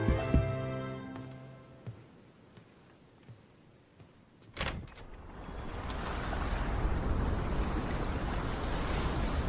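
Ocean waves in a Pokémon video game trailer: a swelling, continuous surf wash rises after a few soft musical tones and a sharp splash, then rolls on loudly and steadily with no voices.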